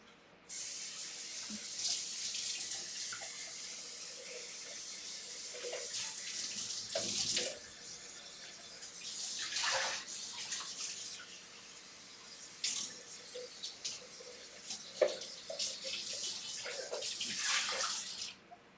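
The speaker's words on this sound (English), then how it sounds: "Just making sure I rinsed out the sides of this so that it's not the end of the world to clean it." Kitchen tap running while a container that held tomato sauce is rinsed out, a steady hiss of flowing water with splashy surges and sloshing as the stream hits the sides, fairly close.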